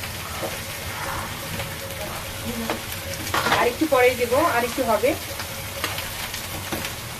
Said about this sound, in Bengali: আলুটা ভালো করে হলুদ হলুদ করে ভেজে নেব